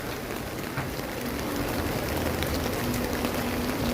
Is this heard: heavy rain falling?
yes